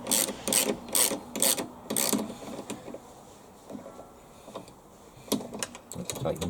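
A 10mm spanner tightens two bolts on a rear axle, a burst of quick metallic ratcheting clicks up close, followed by quieter scattered clicks and handling noises.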